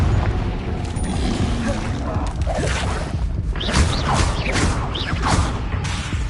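Confringo fire-blast spells from Hogwarts Legacy burst in rapid succession amid dense, loud magical whooshes, cracks and rumbling combat effects, with a player's voice calling out over the din.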